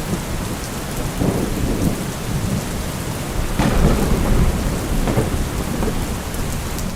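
Heavy rain pours steadily throughout a severe storm in Kutch, Gujarat, with low rumbles of thunder rolling in the background, loudest around the middle.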